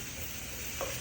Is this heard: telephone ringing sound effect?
no